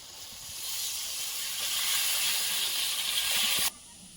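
Water poured into hot spiced oil while cooking a red bhola fish curry bursts into a loud, broad sizzling hiss of steam that holds steady for about three and a half seconds and then cuts off abruptly.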